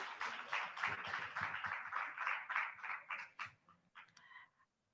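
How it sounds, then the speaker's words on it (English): Applause at a university scholarship presentation ceremony, a modest group clapping steadily at moderate distance, fading out near the end as a voice begins to speak. "Let's keep the applause going."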